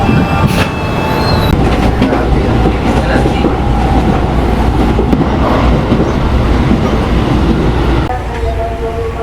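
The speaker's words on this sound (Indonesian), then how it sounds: "Ini kereta dari Bogor." A commuter train from Bogor rumbles loudly and steadily arriving at a station, with a brief high screech early on; the noise eases slightly near the end as the train slows.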